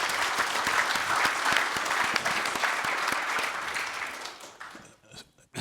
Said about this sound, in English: So I want to give you all a round of applause for all the work, all the preparation